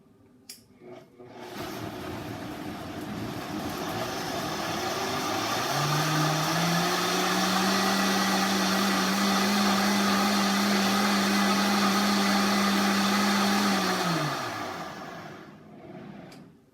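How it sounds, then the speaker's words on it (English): Countertop blender whirring through soaked oats and water for oat milk, a loud continuous motor roar running about fourteen seconds with a steady pitch, starting abruptly and cutting off at the end; no voices. "You will want to blend for 30 seconds to a minute depending on the power of your blender"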